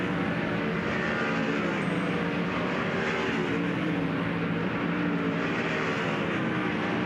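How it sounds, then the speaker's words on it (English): Dirt track race cars running hot laps at Port Royal Speedway, a steady loud engine roar filling the whole stretch without a break, with no voices over it. "cars now begin to come to life for the first time here tonight at the Speed Palace"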